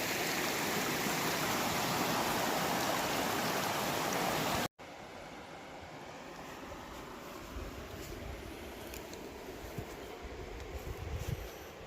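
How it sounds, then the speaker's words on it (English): A creek flowing over bedrock, a steady rushing wash of water near the microphone, abruptly cut and then continuing at a softer level with small splashes and scuffs. "Coming up on the creek pretty quickly."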